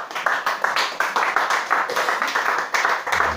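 A church congregation claps in steady rhythmic unison to acclaim Jesus Christ, bright and close, with a regular beat throughout.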